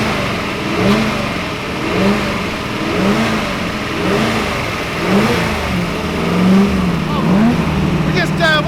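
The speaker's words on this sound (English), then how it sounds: "We're just warming the car up before we take it out to the staging area." An Allard J2X historic race car idles and warms up at a racing festival, its engine blipped in regular rhythmic revs about once a second, loud and close, with a voice briefly audible.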